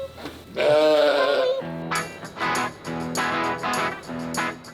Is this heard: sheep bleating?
yes